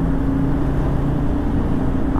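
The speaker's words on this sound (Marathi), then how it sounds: "आवाज बघा फक्त, म्हणजे एक्झॉस्ट साऊंड बघा" A motorcycle exhaust drones steadily and loudly while riding on a road on the way from Mumbai to Sawantwadi through Anuskura ghat, a continuous low engine hum with wind noise and no pauses.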